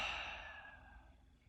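A soft, breathy sighing exhale, voiced lightly like an open "ha," released once during a breathing exercise, close and quiet, fading over about a second and a half with no talk.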